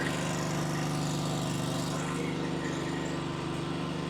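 Toro Grandstand HDM 32 stand-on lawn mower running steadily nearby, a loud continuous engine drone with a strong low hum and broadband whine, unbroken throughout with no talk.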